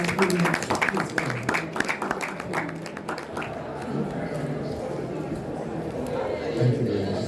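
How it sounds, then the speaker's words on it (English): Audience applause at a formal academic gathering as a professor is invited to the floor. Dense clapping runs through the first half, then thins into a softer crowd murmur with scattered claps. "A round of applause as we please go."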